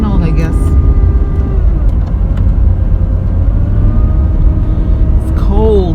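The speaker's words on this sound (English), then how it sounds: "It makes this bad sound whenever I don't let it warm up" An aging car's engine idles cold on a windy day, with a steady low rumble and a faint whirring whine that wavers over it. A person talks over the engine noise.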